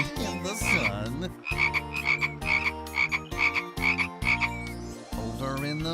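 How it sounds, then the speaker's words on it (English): Frogs croak in a loud, rhythmic run of repeated calls, close and prominent, in a children's rainforest-themed song setting. "So they croaked and they croaked in the sand, in the sun."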